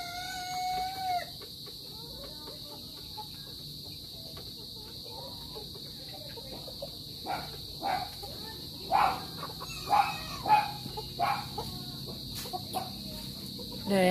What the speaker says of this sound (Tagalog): sunod naman po natin yung isang rooster na gagamitin ko rin ngayong darating na